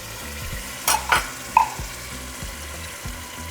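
Tomato sauce and water for camarones rancheros simmer in a pan with a soft bubbling sizzle, while a spoon scrapes and clinks against the pan in a few sharp strokes near the start.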